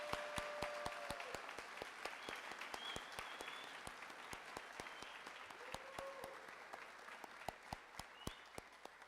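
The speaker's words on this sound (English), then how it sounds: "Let's give them all a big round of applause." Sustained applause from an audience at a police training academy graduation, honoring the graduating cadets; dense steady clapping with sharp individual claps standing out, moderately distant, and a few faint voices or tones mixed in.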